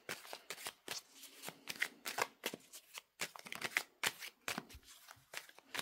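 Tarot cards being shuffled by hand, quiet close riffling and flicking in quick repeated bursts with brief pauses between.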